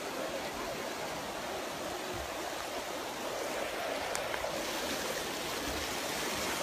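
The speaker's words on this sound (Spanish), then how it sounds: "El agua apenas tiene como 15 minutos que empezó a llegar y ya está hasta las rodillas." Floodwater rushing rapidly through a flooded area, a continuous dense roar of flowing water, steady and loud throughout with no voices.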